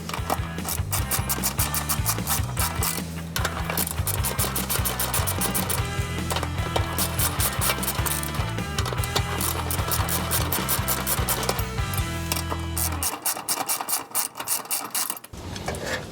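Rapid ratcheting clicks from a wrench loosening bolts on a bar under a 2015 Honda Civic Si, steady and close for most of the span, then a lighter metallic rattle near the end.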